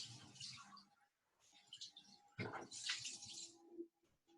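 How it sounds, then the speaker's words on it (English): Running tap water rinses a seeded pepper in a kitchen sink, coming in several short bursts of splashing with brief pauses between them, close and fairly quiet, with no talking. "so I'm just going to give it a quick rinse out."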